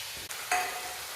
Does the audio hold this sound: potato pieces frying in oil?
yes